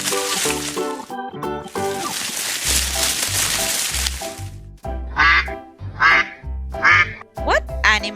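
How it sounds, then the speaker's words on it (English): Duck quacking in repeated bursts, loud and close, with short pauses between calls and a few overlapping nasal squawks. "That's right! It's a duck."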